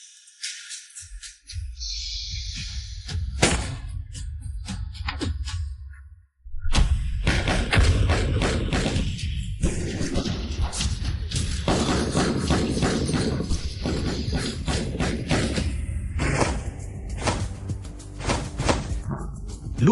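Bombs and blasts go off in a video game, a long run of loud, heavy thuds and crashing bursts, broken once by a brief silent gap before the barrage resumes.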